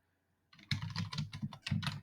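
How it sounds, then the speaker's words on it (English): A computer keyboard being typed on to enter a link: after brief silence, a steady run of close, fairly loud key taps continues to the end. "so I'll just type"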